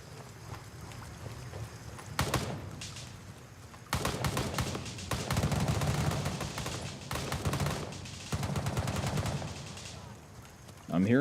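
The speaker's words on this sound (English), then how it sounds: "I'm hearing some big guns going off." Heavy weapons fire in a military shooter game: rapid machine-gun bursts and thumping gunfire roll in and out in long volleys, loud and fairly close, with ambient battlefield noise between salvos.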